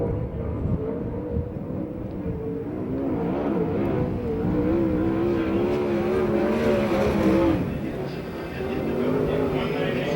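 A USAC/CRA sprint car runs a qualifying lap at Perris, its engine droning and rising in pitch as it circles the track, heard under a track announcer's voice.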